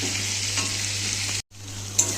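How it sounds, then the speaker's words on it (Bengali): Potatoes and onions fry with salt and turmeric in a pan, giving a steady, close sizzle that holds throughout, broken by one brief silent gap and a small clink near the end. "আলু আর পেঁয়াজটাকে ভেজে নেবো নুন হলুদ দিয়ে ভালো করে"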